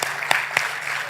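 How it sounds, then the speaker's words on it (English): Audience at an alumni meet applauding a business owner, a brief burst of steady clapping with a couple of louder close claps standing out, lasting about a second. "let's give her an applause."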